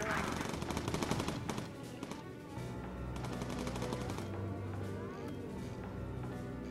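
Rapid bursts of machine-gun fire rattle against a bomber aircraft in the Bomber Crew video game, loud and sustained, dense clattering volleys with brief gaps, continuing over the constant drone of engines.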